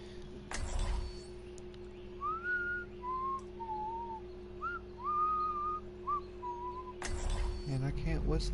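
A person attempting to whistle produces a wavering series of short, thin tonal notes in uneven phrases over a steady electronic hum, with louder game sounds bursting in before and after.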